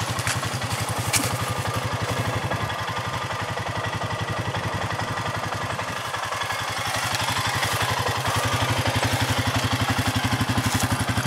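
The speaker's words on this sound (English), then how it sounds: "Idle's real smooth, real quiet." A 2004 Honda Foreman Rubicon 500 4x4 ATV engine idles smoothly and evenly, with a close, steady low putter that holds for the whole stretch and has no talk over it.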